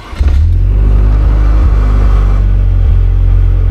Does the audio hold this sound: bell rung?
no